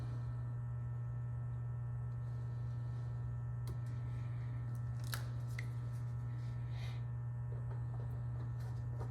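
Electrical wire being cut and stripped back to fit a ground lug on a power job, with a few sharp snips and scrapes over a loud, steady mains hum.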